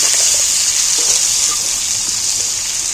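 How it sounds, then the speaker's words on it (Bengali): Sliced onions fry in salted oil while being stirred, giving a steady, loud, bright sizzle with faint scraping, close up and continuous with no voices. "এইবার আমি ওই তেলের মধ্যে পেঁয়াজগুলোকে একটু নাড়াচাড়া করে নিই ভালো করে নাড়তে নাড়তে ভেজে নিলাম"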